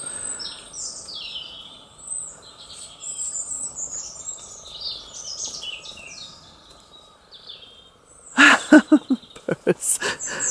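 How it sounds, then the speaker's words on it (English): Songbirds sing and chirp through sunny morning woodland, several calls at moderate distance over a quiet background, followed near the end by loud close rustling or handling noise. "The birds are in their element this morning."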